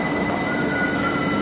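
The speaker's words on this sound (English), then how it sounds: "this is just a local Skipton Foster Square service" A local Skipton to Foster Square passenger train passes a level crossing close by, giving a loud, steady rumble with high, ringing wheel squeal throughout and no voices.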